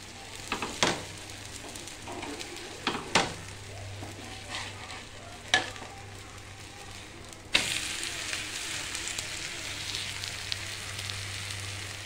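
Pumpkin dhirde pancake frying in a pan, a continuous soft sizzle broken by a few sharp clinks and scrapes of a spatula, the sizzle growing brighter and louder partway through.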